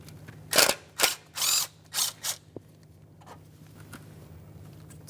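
A ratchet clicks in several quick bursts as it loosens the single 10mm mounting bolt on the ignition coil of a 2012-2015 Honda Civic 1.8L engine, close and crisp, with faint clicks after.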